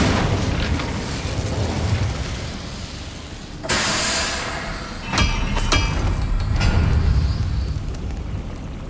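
A fire spell cast in Hogwarts Legacy roars in with a broad whooshing burst, followed by several sharp crackling pops and a rumbling blaze over a dense, loud game soundscape.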